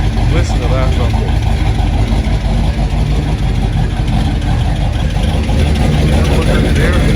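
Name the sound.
Chevrolet 409 V8 exhaust rumble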